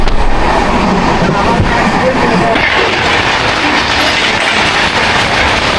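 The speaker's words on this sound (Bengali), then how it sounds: "আমাদের ট্রেন এখন 293 কিলোমিটার যাত্রা করে চলে আসলো ভদ্রকে" A Howrah to Chennai passenger train runs along the tracks, a loud continuous rumble with rhythmic wheel clatter heard close up from on board, with no voices.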